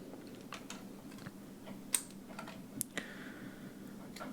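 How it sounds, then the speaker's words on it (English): Keycaps and switches being pulled off a nullbits Scramble keyboard, making sparse small clicks and plastic ticks up close, with a couple of sharper snaps over faint background hiss. "To start with the Scramble, we're going to take the keycaps and switches off"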